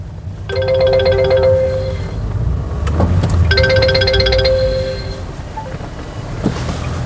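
A mobile phone ringtone plays a repeating melodic chime in two bursts separated by a short pause, loud and close, over a low rumbling background inside a Honda Vezel Hybrid 2015.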